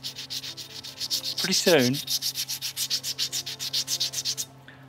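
An abrasive rubs rapidly back and forth on a freshly machined, shiny metal surface, giving a loud, even train of scraping strokes; someone briefly speaks partway through before the strokes stop.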